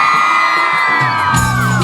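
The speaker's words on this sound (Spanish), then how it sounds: "¡Y el grito de las chicas!" Girls in an audience at a live Peruvian stage show scream together loudly and with sustained high pitch, the crowd's cheer swelling and overlapping throughout.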